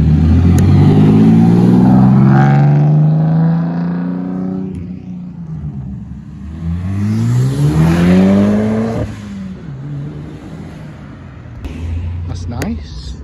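A TVR Tamora sports car accelerates away from a car show, its engine note climbing through two loud rising pulls with a gear change between them, then fading as it departs.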